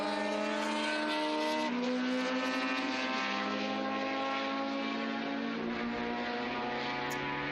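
A Kremer team Porsche 962C historic race car in Kenwood Hi-Fi colours roars past at the Estoril Classics circuit, its engine note loud and sustained as the pitch slides down through the pass.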